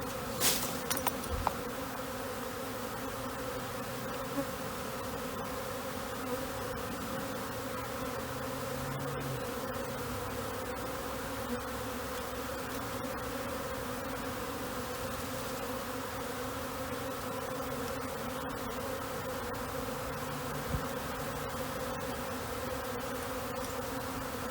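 A honeybee swarm hums in a steady, continuous drone throughout, dense and even with no talking, while a beekeeper prepares to collect it with a bee vacuum.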